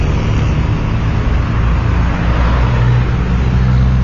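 Busy street traffic in Havana, Cuba: close, continuous car and engine roar with vehicles passing and accelerating, loud and steady throughout.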